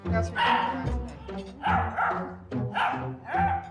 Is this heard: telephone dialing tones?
no